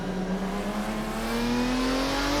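A GT race car engine in the Assetto Corsa driving game revs steadily upward under throttle, a continuous loud drone rising in pitch over a couple of seconds with no talking.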